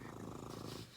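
Close, continuous purring from a pet cat named Angel, a dense low rumbling pulse running steadily throughout without any voices.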